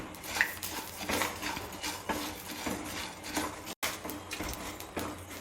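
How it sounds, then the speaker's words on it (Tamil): Whole coriander seeds go into a pan and are dry-roasted with tamarind for homemade rasam powder, giving close, irregular scraping and clinking of a spoon against the metal pan, with light rattling of the seeds and no voices. "இப்போ நான் இதோட முழு மல்லியும் சேர்த்துக்கிறேன்."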